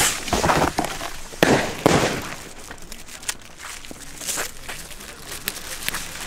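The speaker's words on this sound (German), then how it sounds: "China Böller, Super Böller 2 jetzt." Large China Böller firecrackers blast on a street, several sharp loud bangs in the first two seconds followed by scattered smaller pops and crackles fading out, with occasional background voices.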